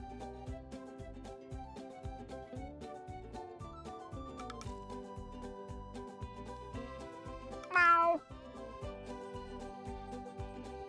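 Gary the snail from the SpongeBob Battle for Bikini Bottom video game gives a single loud, rising meow over steady game music, with no talking.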